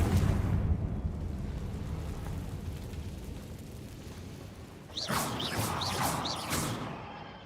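Rumbling blast of the Confringo explosion spell in Hogwarts Legacy, a deep crashing boom that decays slowly, then a bright magical shimmer with repeated sparkling chimes.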